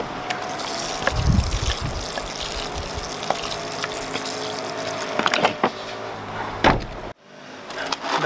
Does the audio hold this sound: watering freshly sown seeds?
yes